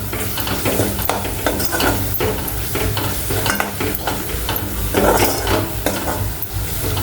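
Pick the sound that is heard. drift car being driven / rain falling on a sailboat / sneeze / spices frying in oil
spices frying in oil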